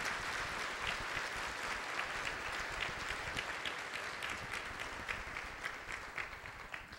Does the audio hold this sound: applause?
yes